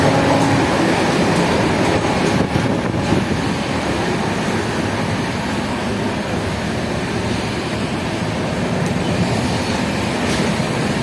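The 15744 Farakka Express runs at around 110 km/h, heard from inside a worn sleeper coach as a loud, unbroken rumble and rattle of wheels on track, with no break in the roar.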